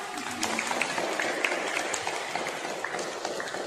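Schoolchildren and guests at a Hindi Diwas celebration at Tagore Public School clap in a dense, even patter, fairly soft and steady throughout.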